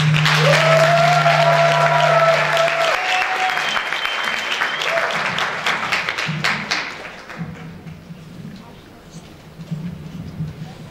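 Audience applause welcoming a singer onto the stage at an outdoor music event in Aizkraukle, Latvia: dense, loud clapping that tapers off over several seconds, with a low hum and faint voices underneath.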